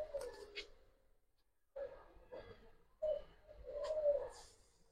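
Pigeons cooing in a loft where Giribaz and mixed-breed pigeons are kept: several soft, low coos in bursts separated by short pauses, heard close up and fairly quiet.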